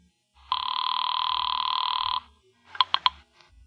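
An old telephone bell rings in a 1950s radio mystery drama, one long trill followed by a short burst of clipped rings, loud and clear against silence.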